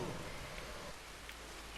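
Soft rain in Red Dead Redemption 2 on PS4, a faint continuous hiss of falling drops with a couple of brief light ticks, no talk.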